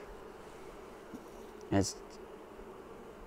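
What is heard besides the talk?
honey bees buzzing in an opened Flow Hive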